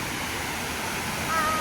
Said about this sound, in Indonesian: Itu air terjun kecilnya.